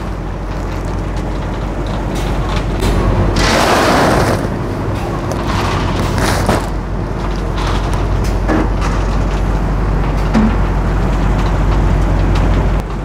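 A cattle feed packing machine and elevator run with a heavy, continuous low rumble and mechanical clatter, with bursts of louder grinding and knocking throughout.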